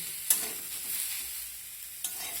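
Cauliflower leaves fry in a pan under a soft, steady sizzle, with two sharp scrapes of stirring about two seconds apart and no talking.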